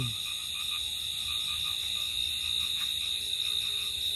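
On an autumn night in a rural Bangladeshi wetland, frogs keep up a faint, rhythmic run of croaks, set against a dense, unbroken whine of crickets.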